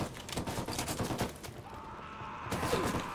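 Rapid bursts of gunfire from the video game Ghost Recon Wildlands, a dense run of close, sharp shots through the first half that thins into scattered reports and returns toward the end.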